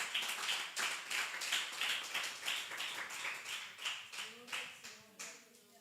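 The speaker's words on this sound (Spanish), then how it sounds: "Si quieres darle ese aplauso al Señor, dáselo." Church congregation clapping during a Sunday service, faint and somewhat sparse with a rhythmic pulse of claps, with a voice emerging near the end.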